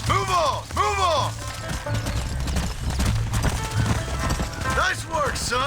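Horse hooves clip-clopping and galloping in the Red Dead Redemption 2 video game, a steady rhythmic beat under game dialogue, with brief swooping musical or vocal sweeps at the start and end.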